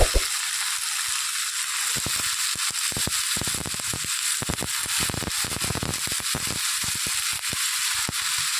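Chopped potatoes are dropped into hot oil with garlic, green chillies and dried fenugreek. A loud, steady sizzle is broken by dense sharp crackles and spits throughout, with no talking.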